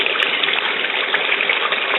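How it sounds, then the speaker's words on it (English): Steady rushing water flows continuously through a recirculating gold prospecting sluice, close and fairly loud, with a hissy splashing texture and no voices. "And then you can turn on your water"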